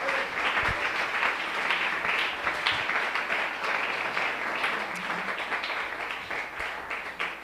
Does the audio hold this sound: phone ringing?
no